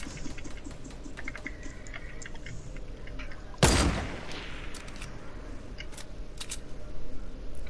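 A single loud sniper rifle shot cracks out during a Fortnite match, sharp and close, with a brief tail, set among faint clicking and light game sounds before and after.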